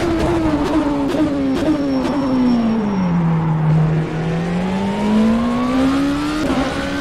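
Simulated prototype race car, an ENSO CLM P1/1 in rFactor 2, braking hard: a loud, continuous engine note sweeps steadily downward, then climbs back up as it accelerates away, with no talking.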